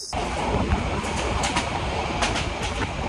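The Sagorika Express passenger train, Chandpur to Chittagong, Bangladesh, rumbles along steadily, wheels clattering over the rails in a continuous loud roar.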